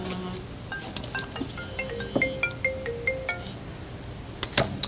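A mobile phone ringtone plays a quiet melodic sequence of electronic notes over a few seconds, fairly soft against a faint room background.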